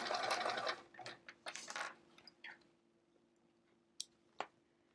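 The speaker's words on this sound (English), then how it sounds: "I'm going to just back tack it here and just sew to the edge." A sewing machine back-tacks and sews through layers of fabric to the edge, with a loud whirring stitch run at the start, shorter bursts after it, then a few sharp clicks as it stops, heard alone.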